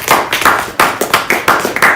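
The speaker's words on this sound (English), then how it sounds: "Maybe she deserves a round of applause for that." Audience applause at a Black History Month celebration, close, loud claps in a quick uneven rhythm, a few hands clearly distinguishable, with no talking.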